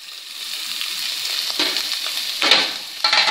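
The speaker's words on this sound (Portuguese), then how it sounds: "E a carne tá terminando de fritar." Pork frying in a pan gives a steady, close hiss with a few louder crackling surges and scraping stirs, and no talking.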